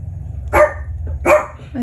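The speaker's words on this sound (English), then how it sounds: "Sorry, my dog hears somebody pulling in my driveway. That's why he's barking." A dog barks indoors, two sharp barks about three-quarters of a second apart, close and fairly loud over a low steady hum.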